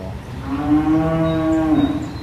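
Dairy cows on a Wisconsin family farm give a long, loud, drawn-out moo that swells and fades over about two seconds, heard close with no talking.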